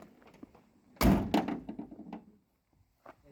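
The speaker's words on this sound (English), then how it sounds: "Shut the door once." A door is pushed shut once with a solid, close thunk, followed by a brief rattle and settling knocks before quiet.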